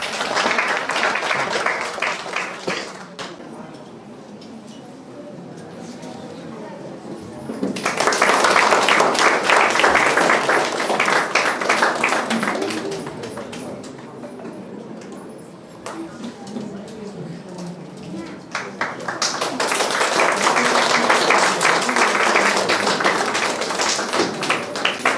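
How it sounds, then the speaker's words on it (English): Applause rises at a drawing competition ceremony as guests are honored: waves of clapping from a gathered audience swell loud, ease off, then surge again in separate bursts over about 25 seconds. "Can we all give them a big round of applause?"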